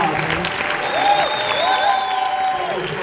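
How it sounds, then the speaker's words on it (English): Convention audience claps for Rob, a steady burst of applause with some cheering, along with sustained whistling tones rising and falling over the clapping. "Let's give a round of applause for Rob."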